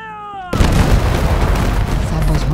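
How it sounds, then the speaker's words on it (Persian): Soldiers fire hundreds of rifles at once in a public square, a sudden loud volley that bursts in abruptly and rolls on as a dense, sustained roar. "سربازها شلیک کردند."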